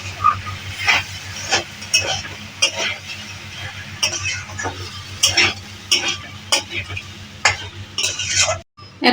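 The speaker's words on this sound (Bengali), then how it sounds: "ডাল আর ডালিয়া একসঙ্গে দিয়ে ভালো করে কষিয়ে নিচ্ছি" Dal and dalia fry with vegetables in a pan, stirred vigorously with a spoon that scrapes and clatters in irregular bursts over a continuous sizzle and a low hum.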